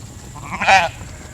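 One sheep in a large flock being moved across hill pasture gives a single clear, quavering bleat that rises briefly above a low background rumble, with no voices.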